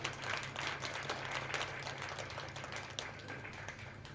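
Audience at a Tamil short-story talk clapping steadily, a fairly faint, even patter of many hands heard from a distance over a low hum.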